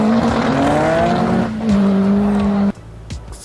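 A car launches hard in a drag race with a loud, steady engine roar that rises in pitch through first gear, then cuts off abruptly as the clutch breaks, leaving quieter mechanical noise.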